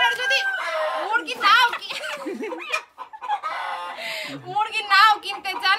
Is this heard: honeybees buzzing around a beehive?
no